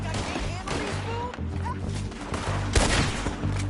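Gunfire in Red Dead Redemption: a rapid string of close, sharp shots and cracks over a busy game background, loud and irregular throughout the short stretch.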